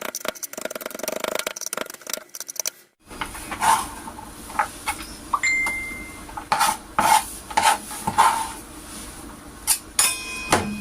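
Kimchi ingredients are chopped finely by hand with a knife, with no mixer or grinder. Irregular, close knife strikes fall in quick bursts after a quiet start, with no talking.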